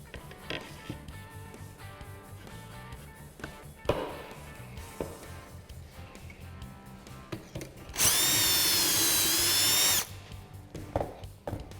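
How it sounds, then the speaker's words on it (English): A power drill bores pocket holes into the back face of plywood door panels in a workshop, with scattered taps and handling knocks, then one steady, loud two-second high-pitched whine of the drill running alone. "That means drill the pocket holes in the back side."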